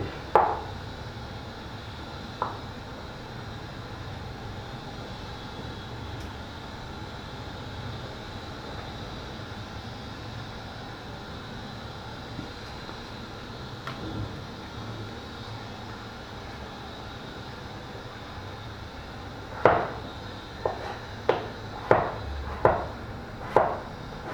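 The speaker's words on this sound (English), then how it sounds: "I'm going to slice it fairly thin because I want it to cook fairly quickly" A knife slices food thinly on a cutting board, mostly quiet background hum with a few scattered taps, then a quick run of five or six close, sharp chopping knocks near the end.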